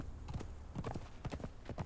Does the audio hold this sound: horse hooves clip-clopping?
yes